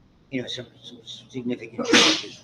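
A single loud sneeze bursts out near the end, right after a lecturer's speech in a classroom setting, close and sharp.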